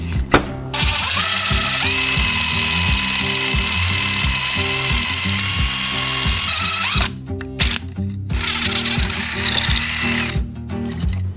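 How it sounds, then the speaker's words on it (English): A power drill bores through a beetleweight wedge robot's chassis, a loud steady whine with pulsing mechanical chatter that runs for several seconds, breaks briefly, then starts again. "we need to drill through our chassis"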